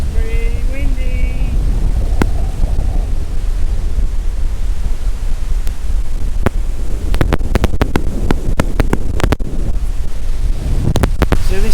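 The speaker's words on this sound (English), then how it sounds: "Wow, she's pretty windy." Strong wind buffets the microphone at Cooper Creek near Innamincka, a steady loud roar with sharp gusty pops and thumps, alone without voices.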